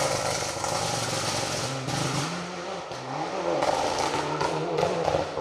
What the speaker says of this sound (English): It is the popping and the banging from that 90s, early 2000s anti-lag system that we loved so much